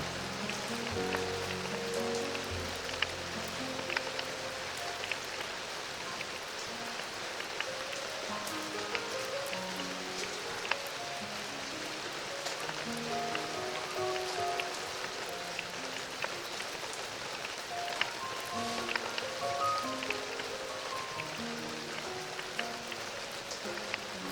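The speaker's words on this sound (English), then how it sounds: "The rain continues to fall softly outside your window." Soft rain falls steadily outside a window, a continuous even patter with scattered drop ticks, joined by gentle low piano notes throughout.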